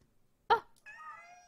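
A cat meows in a video game, a short sharp burst followed by a drawn-out, tonal meow, close and fairly quiet.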